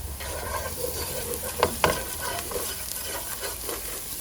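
Chopped onions fry and sizzle steadily in hot oil in a pan, while a utensil stirs them and gives two sharp scrapes near the middle.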